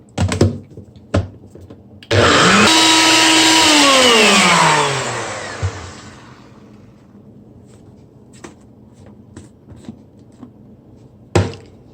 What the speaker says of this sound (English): I'm putting it on the NutriBullet with a little water.